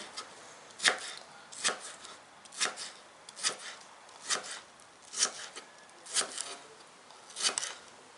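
Steady knife chopping of watermelon rind on a board, about ten crisp cuts at an even pace, close and clear with a faint hiss between strokes.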